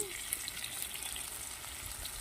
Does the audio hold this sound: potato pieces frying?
yes